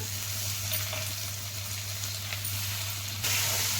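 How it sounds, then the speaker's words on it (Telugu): Bitter gourd and tomato pieces fry in an oiled pan with curry leaves, giving a steady, close hissing sizzle, with a faint stir and a sudden louder burst of sizzle near the end. "ఈ దోరగా గోల్డెన్ కలర్ వచ్చే వరకు వేయించుకుందాం"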